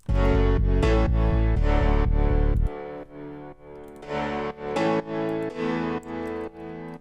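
Electronic chord progression, first version, with loud sustained synth chords pulsing over a heavy low end for several seconds, then lighter stabbing chord blocks continuing in a steady rhythm.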